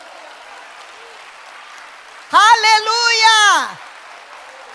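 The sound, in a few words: applause for Jesus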